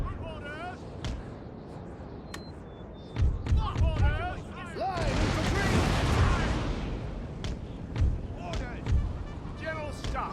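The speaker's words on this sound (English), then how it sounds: "we can just set up all the cannons here, unlimber them from the start" Cannon and artillery fire in a video game battle with horses on the field, heavy booms and gunfire bursts rolling in around the middle, mixed with game noise and people talking throughout.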